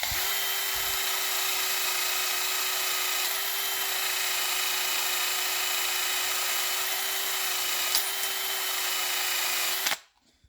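A power drill whines steadily at close range with a rough, grinding scrape of a wire brush removing corrosion from rocker arm trunnions running throughout, then stops abruptly near the end.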